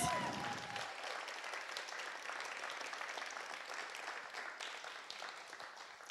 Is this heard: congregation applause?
yes